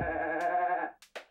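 Cartoon goat bleat sound effect, one sustained nasal bleat close and clear, followed by two short breathy puffs, with no talking over it.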